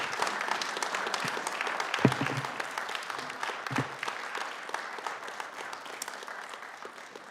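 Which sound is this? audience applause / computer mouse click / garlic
audience applause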